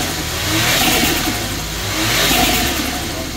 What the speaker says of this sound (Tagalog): Turbo niya, yung naridinig nyo yung turbo yan